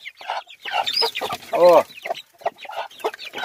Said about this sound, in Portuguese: Essa galinha é muito espantada